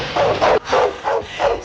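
A dog barks close by, five sharp barks in an even rhythm with short gaps between them.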